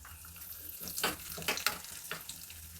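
Mustard seeds, urad dal and chana dal fry in about four small spoons of hot oil, a soft hissing sizzle with a few brief spitting bursts, close and fairly quiet.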